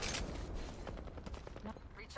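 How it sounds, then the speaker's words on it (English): Enemy gunfire in a video game crackles as a rapid, fairly faint burst of shots in the opening moment, followed by scattered quieter pops in the background. "They're shooting at me."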